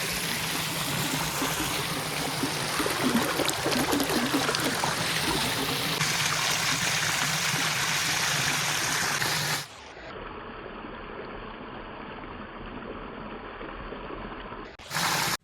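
Water pours and splashes steadily into a farm irrigation tank, a constant rushing trickle that drops to a quieter, muffled flow partway through.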